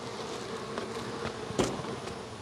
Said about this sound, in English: It's already pulling bees out of the medium